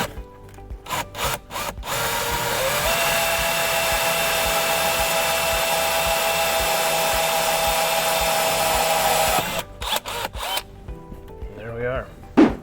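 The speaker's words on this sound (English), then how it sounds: "now we drill" A power drill bores a hole into a pickup's center console during a refrigerator install, one continuous whirring run of about seven seconds framed by short bursts of starts and stops, close and loud, with brief talk near the end.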